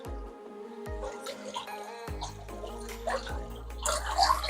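Water pouring and splashing into a new shrimp pond tank: a continuous near gurgle and trickle with repeated drips and bubbling, steady and moderately loud.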